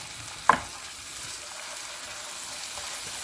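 Tomato sauce poured into rice frying in a pan for Spanish party rice, a brief splashy hit followed by a steady, even sizzle that continues throughout.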